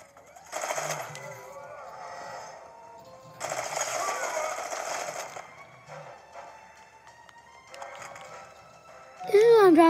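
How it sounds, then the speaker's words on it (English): Minigun fire in a video game comes in two long bursts of rapid, buzzing rattle with quieter gaps between them, and people talk excitedly over the action. "One's got a minigun. You know what fights miniguns?"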